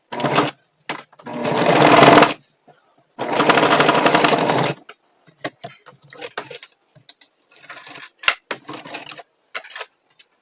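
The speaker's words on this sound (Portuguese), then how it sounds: "agora eu venho na máquina e vou fazer uma costura com o pezinho de máquina, dando retrocesso no início e no fim" A sewing machine stitches a seam on soft scrap fabric for a rag rug, with a backstitch at the start and end. Two long, loud bursts of whirring run are followed by short stops, clicks and small handling noises.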